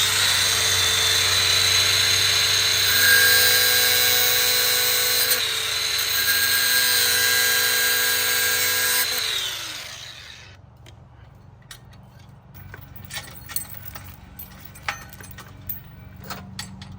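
Power tool cutting off an old 1975 lock, a loud whining grind with shifting pitch for about ten seconds that winds down, followed by quiet clicks and handling noises.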